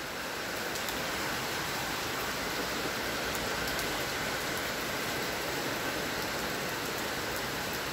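Torrential rain in a heavy Athens storm, a constant loud wash of falling water with faint patters of drops on surfaces, unbroken for several seconds and free of talk.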